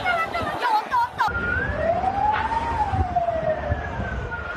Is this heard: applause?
no